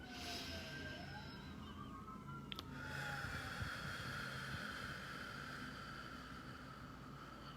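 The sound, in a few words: sirens outside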